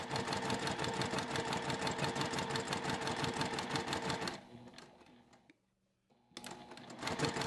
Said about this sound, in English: I will do a back stitch, come right along that edge,